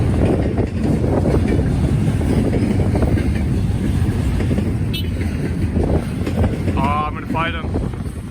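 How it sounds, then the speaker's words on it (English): Strong night wind roars steadily into the microphone beside a railway line in Muncie, a loud continuous rumble with brief higher whistling sounds near the end and a voice speaking over it. "This wind's gonna blow me over on my twig."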